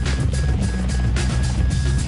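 A V-22 Osprey tiltrotor military aircraft flies with a steady, loud low-pitched rotor and engine roar, continuous throughout with a thin whine above it.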